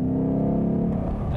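Ford Mustang engine revving hard past 3000 RPM, a loud, dense, throaty roar with rising harmonic tone, heard close and alone for a brief burst.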